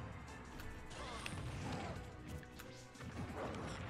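Heavy smash hits and thwacks from forward smash attacks in a Super Smash Bros fight ring out in a dense, continuous stream of game effects over a busy mix.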